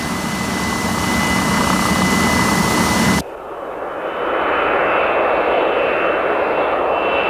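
A McDonnell helicopter with jet engines at its rotor blade tips roars loud and steady, the tone dropping abruptly partway before swelling back to a sustained, dense jet roar.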